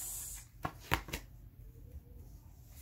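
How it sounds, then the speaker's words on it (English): Brief riffle of a stiff tarot deck being shuffled, a few quick papery flutters close by in a quiet room. "This deck is really hard to shuffle."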